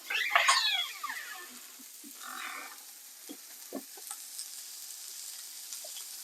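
Oil sizzles in a hot frying pan for Moroccan meatballs, a bright crackling burst at the start that settles into a quieter, steady fry with a few small pops and clinks.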